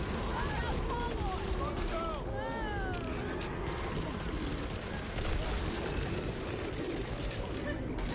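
Rapid gunfire in the zombie shooter Back 4 Blood, sustained bursts of shots running steadily throughout, with a player's voice talking over the shooting.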